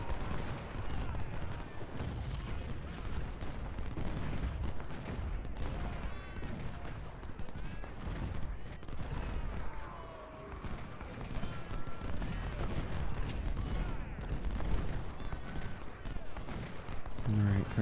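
Artillery and rifle fire rumble through a Civil War battle in Ultimate General: Civil War, continuous booming volleys and crackling gunfire layered with game sounds, with someone talking over the din.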